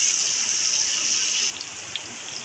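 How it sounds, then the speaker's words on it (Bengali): Garlic and ginger paste frying as a spice mix for a fish roe kofta curry, giving a steady close hiss and sizzle that eases slightly halfway through, with faint crackles. "আধা চা চামচ রসুন বাটা, আধা চা চামচ আদা বাটা। মশলাটাকে এবার একটু ভেজে নেব।"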